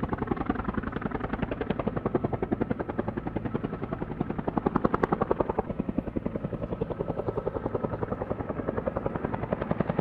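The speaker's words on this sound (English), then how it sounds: "For the first time ever, a plane landed on a helicopter pad." A plane lands on a helicopter pad, its engine giving a loud, close, steady throbbing drone with a fast pulsing beat that holds for the whole stretch, with no talking.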